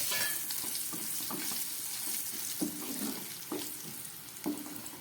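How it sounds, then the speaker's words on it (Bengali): Cut potatoes tipped into a pan of fried spices, a soft continuous sizzle with watery hiss and a few stirring knocks, fairly faint and close. "এবার আমি দিয়ে দিচ্ছি কেটে রাখা আলু"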